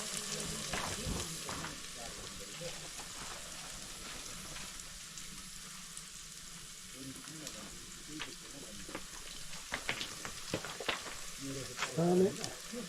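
Food frying in a camp galley in the Himalayas, a soft continuous sizzle with stirring and scraping noises, fairly quiet, ending in a few louder clatters near the end.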